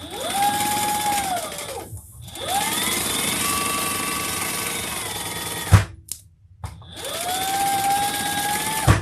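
Sewing machine stitching handbag pieces together, motor whirring in sustained runs that rise and fall in speed, with brief pauses and a few clicks between bursts, close and clear.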